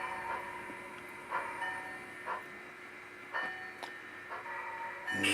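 A model train reverses slowly over an uncoupling magnet on a layout, a faint, steady mechanical whir with soft, regular clicks of wheels crossing rail joints, heard alone at low level.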